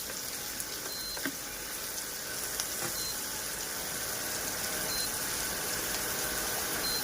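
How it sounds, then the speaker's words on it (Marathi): Potatoes sautéing in oil in a pan for kanda poha give off a steady, soft sizzle with a few faint clicks, continuous and fairly quiet throughout. "त्यासोबत तेलात बटाटा पण टाकूया. तर हे आपण छानपैकी परतवून घेऊया."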